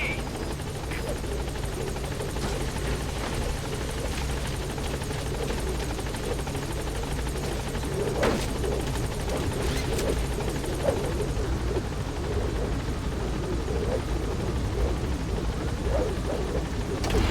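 Steady rotor drone and thump of a helicopter in Metal Gear Solid V: The Phantom Pain, loud and continuous throughout, with game sounds and faint radio chatter layered on top.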